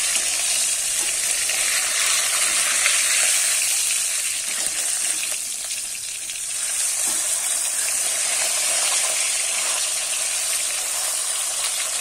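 Fish frying in oil in a large kadai, turned over until browned. A steady, close hiss and sizzle runs throughout with only slight swells and no voices.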